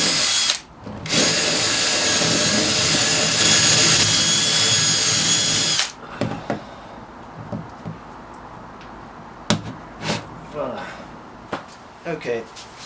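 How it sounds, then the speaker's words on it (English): A power drill bores holes in half-inch irrigation pipe with a loud, high whine that holds for about five seconds, then stops, leaving faint clicks, taps and handling noises. "once you've drilled your half-inch irrigation piping and sanded it down so it fits through"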